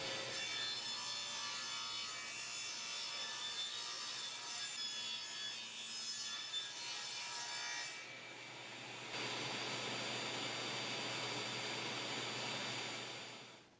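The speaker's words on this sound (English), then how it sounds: "Using a simple crosscut sled helped me get those same 45-degree cuts on the short ends of each" A saw with a crosscut sled makes 45-degree cuts on pine boards, a loud continuous whine that shifts tone briefly partway through and then carries on to the end.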